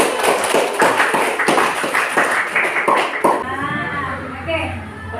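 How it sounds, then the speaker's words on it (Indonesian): Students in a classroom group presentation clap together in quick rhythmic bursts for a few seconds, then the clapping stops and voices take over. "Tepuk tangan dulu."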